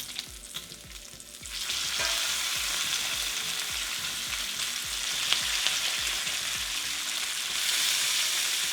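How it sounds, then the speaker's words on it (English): Bacon frying in a pan for burgers, a quiet start that swells into a loud, dense, steady sizzle with faint spits and crackles, close up, with no one talking. "Okay, let's put in our bacon."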